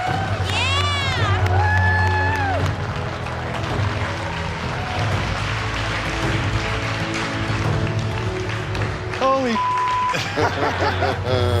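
Competitors cheer and shout in the MasterChef US kitchen during the season 2 final, a loud excited crowd roar broken by a few electronic tones, with voices talking over it.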